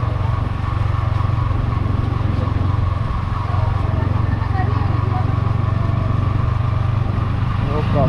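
Motorcycle riding slowly along a narrow path on an Uttarakhand trip, a steady low engine drone throughout, close and loud, with someone talking over it.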